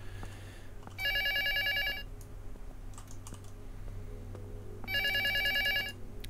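A telephone rings in the Polish horror game Luto, in two loud electronic bursts of about a second each, separated by a few seconds of low background hum, with no one talking.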